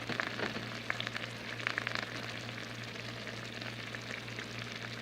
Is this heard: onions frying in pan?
yes